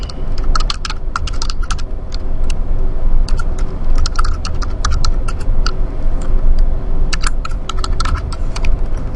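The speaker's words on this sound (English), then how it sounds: "Notice I just keep continuing to hit tab in between each thing I type." Quick, steady typing clatters on a computer keyboard, with crisp individual keystrokes, including presses of the tab key, over a constant low background hum. No one speaks.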